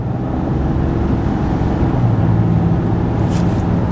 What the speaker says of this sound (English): Now I'm gonna accelerate a little bit,